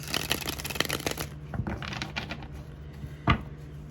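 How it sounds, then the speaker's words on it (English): A deck of tarot cards is shuffled by hand in close, quiet, irregular riffling and tapping bursts, denser early on and then sparser, ending with a sharper tap or knock, with no talking. "I'm here to shuffle a few tarot cards right now already."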